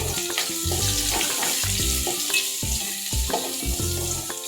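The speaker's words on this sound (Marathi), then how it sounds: "कांदा सॉफ्ट होईपर्यंत आपल्याला फ्राय करून घ्यायचा आहे" Onions frying in a pan with curry leaves and green chillies for kande pohe, a steady dense sizzle running throughout with occasional clinks and stirring knocks, loud and close with no talking.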